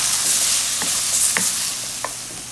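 Mushrooms, shallots and scrambled egg frying in a wok for veggie fried rice, a loud continuous hiss of sizzling oil with three brief scraping stirs of a utensil, close and alone.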